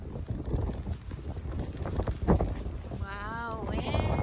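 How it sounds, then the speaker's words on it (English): Wind blows outdoors as loud, gusty rumbling buffets against the microphone throughout. A voice rises briefly over it near the end. "Wow, wind."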